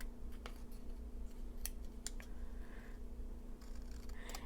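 Tiny scissors snip scrap paper in a quiet room, a few crisp, brief cuts spaced irregularly over a faint steady hum.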